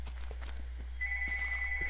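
A landline telephone bell rings indoors in a noisy house, a steady electronic ring starting partway through and continuing to the end over a low hum and faint background clatter.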